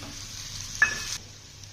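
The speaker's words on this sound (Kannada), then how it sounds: "ಈ ಫ್ರೈಯಿಂಗ್ ಪ್ಯಾನ್ಗೆ ಕೊಬ್ಬರಿ ಆ್ಯಡ್ ಮಾಡ್ಕೊತೀನಿ" Coconut fries in a hot frying pan, giving a steady broadband hiss with a single brief clatter or stir partway through. The sizzle then drops off abruptly to a quieter background.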